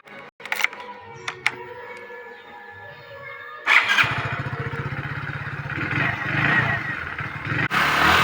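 A motorcycle starts after some clicks and clatter, then its engine runs with a steady rapid putter and climbs into a louder, rising drone as it rides off, close by and without speech.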